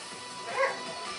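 A puppy gives a short, high yelping whimper mid-clip, brief and fairly close, over a quiet, hissy background.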